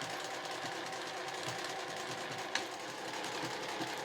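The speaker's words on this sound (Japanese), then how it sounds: "両側を7ミリで縫いましょう" A sewing machine stitches a fabric tissue case along both edges, running steadily with a fast, even mechanical whir at close range, briefly interrupted by a small click.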